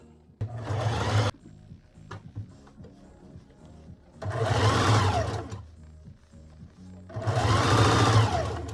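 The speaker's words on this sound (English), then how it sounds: "So now I'm gonna go all around and sew this beauty." Sewing machine stitching around a vintage wedding dress in three bursts of fast, steady whirring, each a couple of seconds long, separated by short pauses with faint handling clicks, close and clear with no voices.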